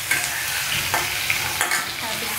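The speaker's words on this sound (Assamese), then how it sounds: "কেৰেলাখিনি অকণমান তেল দি ভাজিছোঁ" Bitter gourd frying in a little oil crackles and sizzles up close, with several soft scraping stirs over about two seconds.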